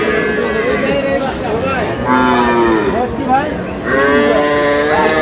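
Dairy cows and calves moo repeatedly at a busy rural cattle market in Aftabganj, Dinajpur, with long drawn-out calls rising over a steady crowd murmur and nearby voices.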